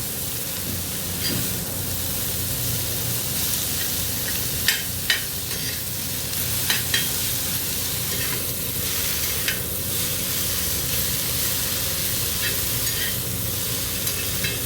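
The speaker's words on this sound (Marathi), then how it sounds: "भाजी छान मिक्स करून घेऊया" Vegetables with garlic and salt sauté in oil on a flat iron tava, a continuous close hiss and sizzle with a few sharp scrapes and knocks as they are stirred, and no speech.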